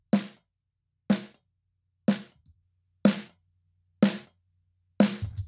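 Dry, unprocessed snare drum sample with no compression, struck six times at an even one-per-second pace, each hit a sharp crack with a short ringing tail, isolated with no voices.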